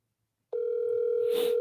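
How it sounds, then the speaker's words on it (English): A single steady electronic ringback tone sounds over a speakerphone during a phone call, one sustained beep starting abruptly after brief silence and holding for just over a second. "You hear the ringing?"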